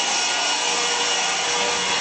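Steady, close sanding works across the tailgate of a 1965 Chevrolet truck during restoration, a continuous rough abrasive hiss that holds even and loud throughout with no talking.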